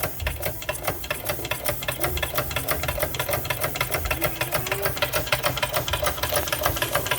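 A restored Weeden Mfg Co toy steam engine, Model 648, runs at speed, giving a fast, even mechanical chatter of rapid ticking strokes with a busy hiss underneath, steady and close throughout.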